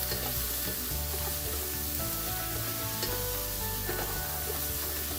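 Turmeric and chili powder sizzle steadily in a pan while cooking prawn masala, a dense continuous frying hiss with occasional stirring scrapes, close and even throughout with no voices.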